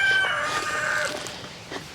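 Backyard chickens and roosters cluck and call close by in a snowy winter pen, a shrill crow-like note rising at the start, then softer overlapping clucks.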